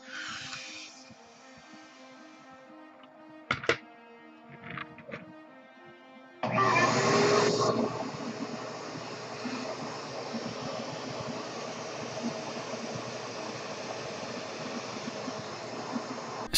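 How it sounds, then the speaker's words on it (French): After quiet handling noises and a few knocks, a vacuum cleaner switches on behind a balloon and runs with a loud, steady whooshing drone close by. "Si vous placez l'aspirateur juste derrière l'échappement du ballon, rien ne bouge."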